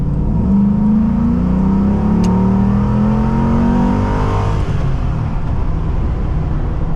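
A 2021 Osprey D110 engine accelerating hard while driving, loud rising engine tone climbing through the revs, then steady road and engine roar, with no talking.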